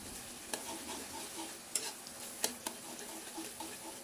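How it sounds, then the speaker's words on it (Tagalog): Buttered shrimp with minced garlic being stirred in a pan, a faint steady sizzle broken by a few sharp utensil clicks against the pan, close and without talking. "Tuloy-tuloy lang po ang ating paghalo para po manood ang lasa"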